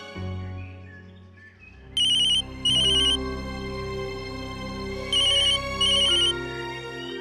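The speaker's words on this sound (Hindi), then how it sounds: "आपका फोन बज रहा है।" A telephone ringtone sounds in two double bursts of bright, repeating electronic tones, loud and close, over a low steady background hum in a home.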